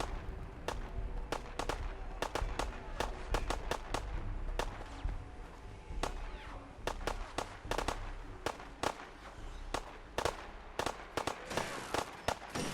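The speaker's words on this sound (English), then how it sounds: "Hey, who's over here shooting?" Gunfire in a video game, set while infiltrating the institute: a long run of sharp, scattered shots and cracks, some close and loud, others more distant, popping irregularly throughout with no pause.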